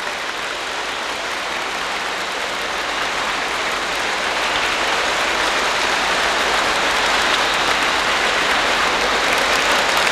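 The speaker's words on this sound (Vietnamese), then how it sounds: "tràng pháo tay như là dài không muốn chấm dứt" A church congregation at Hai Phong Cathedral applauds during an Easter Mass, the clapping a dense, steady wash that swells slightly and carries on for the whole stretch without any talk.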